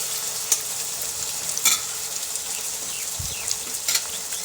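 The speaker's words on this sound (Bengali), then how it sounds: "ভাজা হচ্ছে, তেলটা ফুটছে কড়াইতে," Ghugni masala with tomatoes frying in bubbling oil in a kadai, a steady close sizzle with a few sharp scrapes of stirring.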